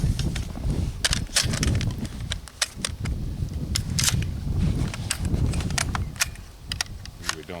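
An old PDS rifle fires old, corroded tracer rounds in a rapid, irregular string of sharp cracks. The shots come close together over a continuous murmur of background noise.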